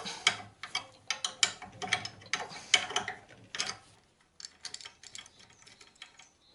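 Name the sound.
unscrewing the three screws of a ball joint cap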